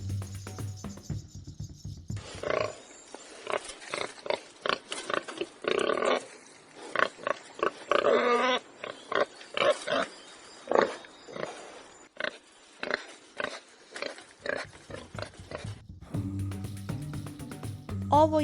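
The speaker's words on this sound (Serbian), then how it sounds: "Ovo je bradavičasta svinja." Repeated short, rough warthog grunts in irregular bursts, fairly close, with quieter gaps between them and a faint low hum at the start and end.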